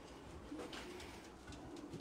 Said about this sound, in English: Beautiful health on these pigeons.